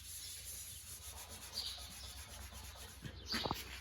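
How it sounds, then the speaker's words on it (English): Steady abrasive sanding rubs across the metal fender of an Oliver 1850 tractor being prepped for paint, a soft continuous scrape heard close up, with a few brief louder knocks near the end. "Sanding it down, getting it ready for paint."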